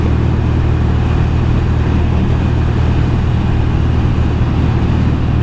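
A Norton Commando 850 MkII motorcycle engine runs at a steady low idle, with a constant rumble that stays loud and close the whole time, no voices.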